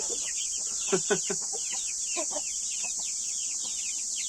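A mother hen sits among a brood of chicks and gives soft, low clucks in short bursts, with faint high chick peeps scattered in the background.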